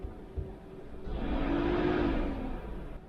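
A 2015 Subaru Forester's radiator cooling fan spins up to its second speed, a steady whooshing whir that builds after a faint click and holds, then eases slightly.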